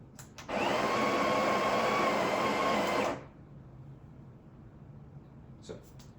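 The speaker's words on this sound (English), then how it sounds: "make sure you run the grinder just to get rid of the old grind size" A Breville Barista Express BES870 coffee grinder whirs loudly for about two and a half seconds, starting and stopping abruptly, followed by quiet room tone and a faint click.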